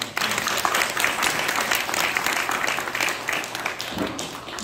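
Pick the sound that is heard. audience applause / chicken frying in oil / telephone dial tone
audience applause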